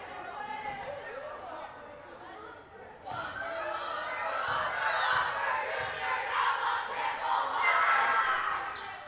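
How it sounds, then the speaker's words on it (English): A hostile crowd at a high school boys basketball tournament game roars and yells during a free throw, a dense wall of voices that swells louder and stays high, with an announcer talking over it. "He's got the hostile crowd behind the backboard on the stage here as he shoots."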